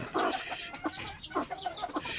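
Jungle fowl hens with chicks clucking close by, a run of short repeated clucks and peeps throughout.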